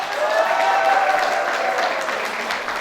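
Dense, sustained applause from the crowd at a Nepali photography awards ceremony as the eighth-place photographer is announced, a loud, even roar of clapping with a faint tone underneath.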